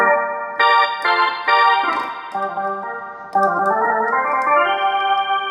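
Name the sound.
Kurtzman SV800 keyboard playing its D50 sound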